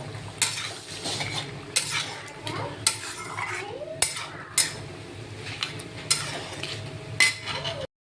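A spatula scrapes and clinks against a pan while spiced potato and egg curry is stir-fried with cumin, ginger, coriander, turmeric and green chili, sharp metallic knocks recurring irregularly over a low sizzle.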